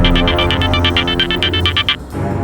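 A telephone rings in rapid electronic bursts, a steady train of bright trills sounding close and loud for about two seconds before cutting off, with no voices over it.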